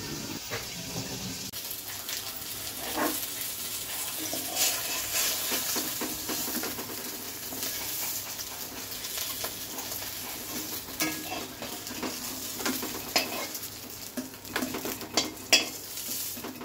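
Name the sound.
boal fish head frying in a covered pan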